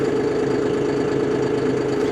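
A John Deere 5075E tractor engine idles steadily up close, a loud, even low rumble with a fast throbbing pulse and no voices over it.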